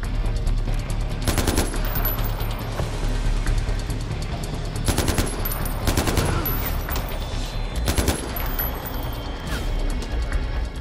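Rapid automatic gunfire from weapons in the video game Far Cry 4, loud and dense, with sustained bursts and sharper volleys over a steady roar of in-game action.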